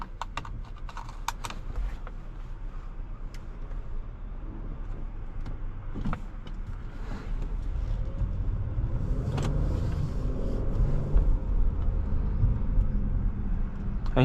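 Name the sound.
Acura MDX Type S SUV driving on the road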